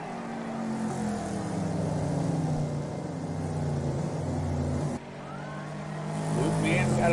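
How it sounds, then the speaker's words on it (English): Race cars in the video game Wreckfest on the Big Valley Speedway outer oval give a continuous engine drone with shifting revs and a sudden cut near the end. A commentator talks over the sound. "AYDY trying to shoot to the outside of Luke Man now with Booby right behind him."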